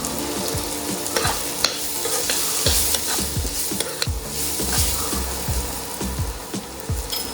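Onion and raw mango pieces frying in a hot pan for a Goan prawn curry, steady close sizzling with repeated sharp clacks and scrapes of a spoon stirring, no talking.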